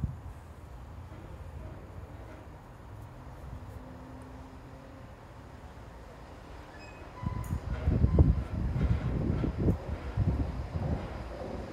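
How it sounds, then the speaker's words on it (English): A Class 166 diesel multiple unit departs Weston-super-Mare on a service to Cardiff Central, a low rumble swelling from faint to moderately loud as it pulls away, with wind noise throughout. "There goes 166215 on the 1342 Greston Railway service to Cardiff Central."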